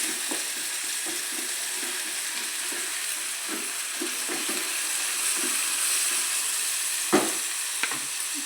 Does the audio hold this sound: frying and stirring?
yes